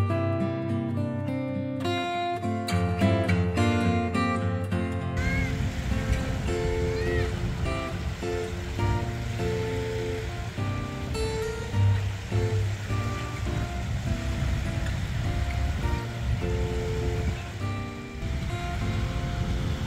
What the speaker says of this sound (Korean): 바다에 왔으니 파도 소리도 한번 들어보도록 하겠습니다.